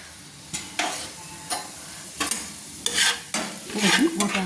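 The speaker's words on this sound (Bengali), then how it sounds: "এবার আমি দিয়ে দিলাম, ফোড়ন দেওয়ার জন্য দিয়ে দিলাম, দেখুন গোটা জিরে দিয়ে দিলাম" Whole cumin seeds crackle in hot oil for tempering while making chire pulao, a soft sizzle broken by repeated spoon scrapes and stirring knocks in an uneven rhythm, close by, with no voices.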